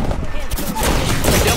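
Bursts of gunfire from the battle royale shooter Apex Legends crackle loudly and continuously, with dense rapid shots filling the moment in a chaotic firefight.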